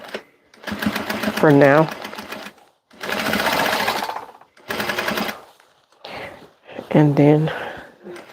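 A sewing machine basting muslin fabric runs in several short bursts of rapid stitching, fairly close and loud, with pauses between; a person speaks briefly in the gaps.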